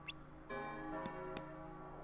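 A bell rings in Kingdom Hearts Re:Chain of Memories with a sustained, faint metallic tone and overtones, struck again in later chimes over quiet game sound; no talking.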